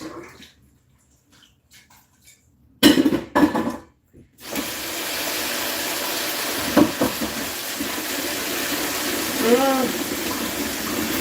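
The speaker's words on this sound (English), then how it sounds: "Let me rinse this off again" Food rinsed under a running kitchen tap: a few brief splashy bursts, then a steady close rush of flowing water lasting about seven seconds with occasional clinks and splashes.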